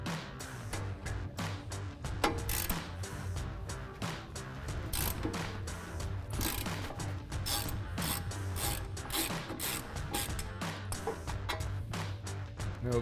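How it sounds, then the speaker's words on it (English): Half-inch ratchet loosening the brake caliper mounting bracket bolts on a 2019-2023 Chevrolet Silverado / GMC Sierra 1500 during a brake job, giving steady dense clicking and mechanical rattling that runs loud and continuous with no talk. "we'll switch over to our 1/2 inch ratchet"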